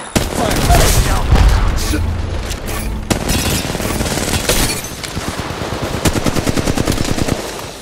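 Gunfire in the Apex Legends Mobile video game: rapid automatic bursts and booming shots, dense and loud, ending in a fast rattling stream of rounds, with game voice lines mixed in.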